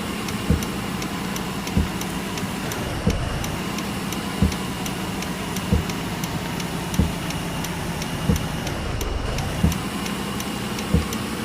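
A vehicle engine hums steadily nearby during a maize delivery in the rain, with faint regular clicking ticks repeating roughly every second over the constant drone.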